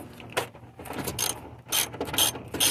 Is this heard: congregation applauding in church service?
no